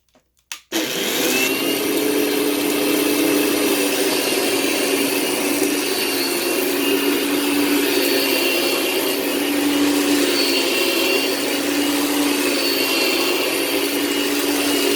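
A Fantom vacuum cleaner switches on after a brief click, then runs with a loud, steady motor whine and airflow roar that holds constant to the end, with no talking.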